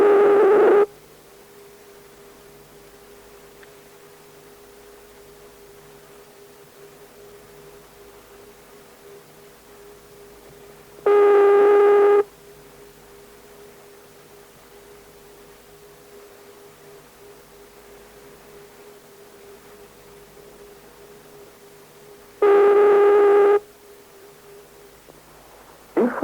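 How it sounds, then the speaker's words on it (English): A 1971 British telephone ringing tone heard on calls to West Germany: single long tonal bursts of about a second, spaced roughly eleven seconds apart, over a faint line hiss. "On calls to Western Germany, you may alternatively hear the following ringing tone."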